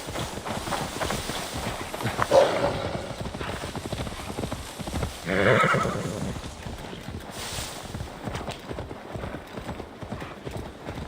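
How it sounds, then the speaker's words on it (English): Steady, rapid clip-clop of horse hooves in a video game, trotting close by, with a couple of brief neighs rising over the rhythm. "Now to deliver Magni his horse."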